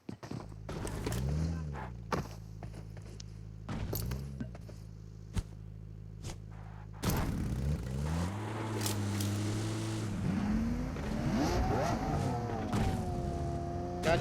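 A Lamborghini driven in a battle-royale shooter game, its engine starting up and then revving with rising and falling pitch while moving, preceded by scattered footstep-like clicks; fairly faint, with no talk.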